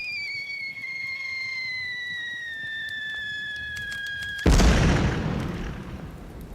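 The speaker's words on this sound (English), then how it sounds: "The German mortar crew continue their murderous bombardment." German mortar fire in a tabletop battle scene: descending whistles of incoming shells, then a loud close explosion whose rumble slowly decays, with no voices.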